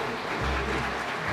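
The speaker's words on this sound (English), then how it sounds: "please give them a big hand of applause" An audience at a public design competition forum for a Seoul performing arts center gives a short, steady burst of applause, fairly distant and muted, with a low hum underneath.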